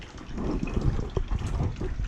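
Tap water gushing steadily from a faucet in Jeddah, a continuous close splashing flow with no speech.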